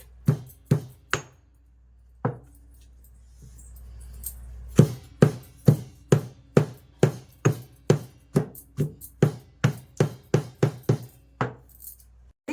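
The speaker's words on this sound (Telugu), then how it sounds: "ఇలా దంచుకోవాలి దంచుకుంటే మనకు బాగుండిద్దండి అది మటన్ కవాబ్స్ కదా" Mutton for kebabs being pounded hard, sharp close thuds at first spaced apart, then a steady fast run of evenly timed blows, loud and alone with no talk.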